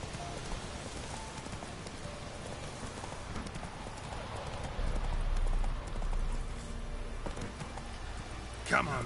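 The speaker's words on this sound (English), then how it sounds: "Come on, Roach. Faster." The horse Roach galloping in The Witcher 3 video game, rapid hoofbeats under game music and ambience, with a brief louder stretch midway and a voice speaking over it.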